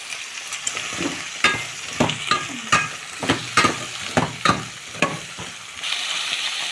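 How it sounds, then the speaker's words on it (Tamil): Brinjal, drumstick and shallots sautéing in hot oil in a pan, a steady sizzle broken by a regular series of scraping stirs from a spoon, close and clear with no talk. "நல்லா வதங்கிட்டு இருக்குங்க காய்கறி"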